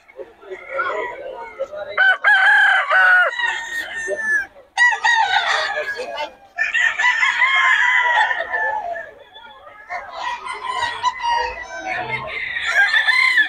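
A young gamecock (bull stag) crows repeatedly at a gamefowl market in Bocaue, loud and close, with several long overlapping crows and clucks from other roosters filling the space between.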